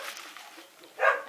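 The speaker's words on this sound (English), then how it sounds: "these dogs are annoying" Dogs bark faintly in the distance, a few soft yaps early on and then one louder bark near the end, heard indoors against a quiet background.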